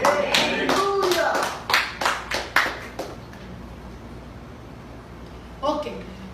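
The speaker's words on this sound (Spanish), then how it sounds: "¿Cuántos aplauden al Señor?" A church congregation claps hands in a burst of quick, loud claps that slow to a few scattered claps and die away. Voices rise briefly near the end.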